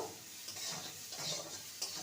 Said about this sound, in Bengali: মূলটাকে দু মিনিট ভেজে নেব